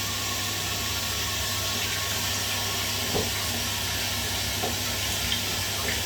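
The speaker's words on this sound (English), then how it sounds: "Look, I wash my hands." Hands being washed under a running kitchen tap: a steady, even rush of water hiss over a low hum, with a few faint knocks.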